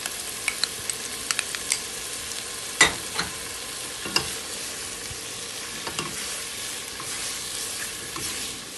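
A spoon stirs colored bell peppers and tomato sauce in a sizzling pan, with a steady frying hiss and a few sharp scrapes and clicks of utensil against metal scattered across it.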